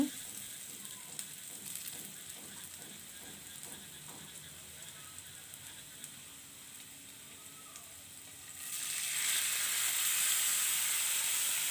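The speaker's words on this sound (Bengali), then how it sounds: "তোমার পেঁয়াজটা ভাজা হয়ে গেছে, এখন আমি দিয়ে দেবো এখানে একটু পানি।" Fried onions sizzle quietly in a pan, then a sudden burst of loud, steady hissing and bubbling follows as water is poured in.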